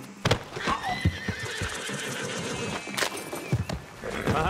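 A horse in Red Dead Redemption 2 gives a loud, wavering whinny with snorts, and hooves clip-clop sharply nearby.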